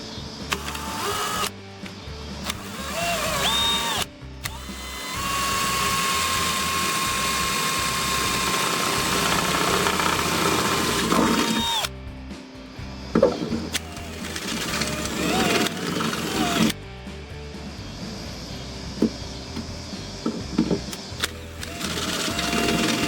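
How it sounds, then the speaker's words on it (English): A power drill whirs loudly in sustained bursts, grinding and whining through a Hyundai Genesis Coupe car door, with pauses, clanks and handling noises between runs. "So let's drill this hole."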